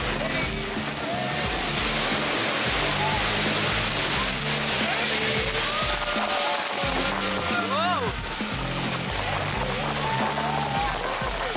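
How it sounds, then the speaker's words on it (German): Boat ride under a waterfall at Iguazu Falls on the Brazilian side, a roaring wash of falling water and spray with shouting and excited voices throughout. "Und dann unter einem Wasserfall."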